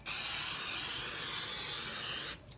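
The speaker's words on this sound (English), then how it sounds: "I'm gonna go ahead and spray the bottom of this pan" A continuous aerosol spray of vegetable oil hisses onto a baking pan for about two seconds, close and even, then cuts off abruptly.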